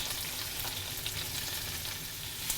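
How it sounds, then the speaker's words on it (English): Steady crackling sizzle of bell pepper sautéing in hot beef tallow, a dense hiss with faint stirring clicks, close and continuous, no voices. "We're just going to saute that in this beef tallow."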